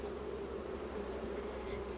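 Honey bees buzz steadily at an open beehive during brood work with a new queen, a continuous droning hum with no voices.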